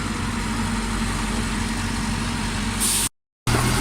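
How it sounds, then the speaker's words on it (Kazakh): Kamaz truck idling while a tractor loads it with concrete paving blocks, a loud steady diesel drone with a low hum, close and unbroken, then a brief hiss before a sudden cut. "Так, погрузка басталды. Ақырдап тракторымыз тиеп жатыр."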